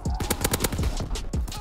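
Call of Duty WW2 gunfire: rapid, loud bursts of automatic shots in quick succession, with a clattering rhythm and short gaps between volleys.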